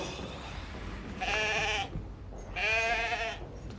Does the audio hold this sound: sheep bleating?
yes